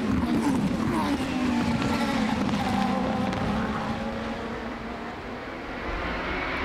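Sports cars at Road America in an ALMS race brake hard into Canada corner, their engines heard as a distant, washed-out roar fading down in pitch over several seconds.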